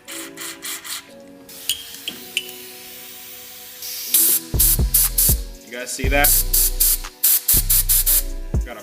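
Compressed air sprays in sharp, loud hissing bursts at a small go-kart engine part, starting with short blasts and ending in longer repeated bursts, with someone speaking briefly between them.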